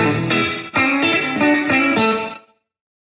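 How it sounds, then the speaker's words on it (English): Electric guitar through a HandleBox pedal set to a twangy, Fender Deluxe-style country reverb: a run of bright picked notes and chords with sharp attacks, ringing together, then a clean decay into silence near the end. "It actually is a very country reverb."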